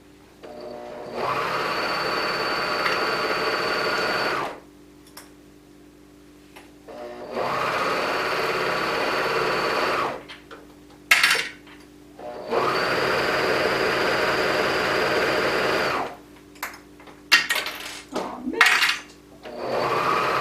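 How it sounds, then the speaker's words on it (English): A serger sewing machine runs in three long, even bursts of rapid, buzzing stitching, close and loud, separated by quiet pauses with faint handling clicks and brief rustling. "I love the sound of serging."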